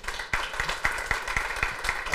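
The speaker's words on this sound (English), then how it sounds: "please join me in a big round of applause for the speakers here today" An audience at a panel on the Kargil war applauds the speakers, brief, moderately loud clapping with a few distinct sharp claps over a dense wash of hands.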